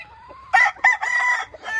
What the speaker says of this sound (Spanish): Qué chulada de gallo.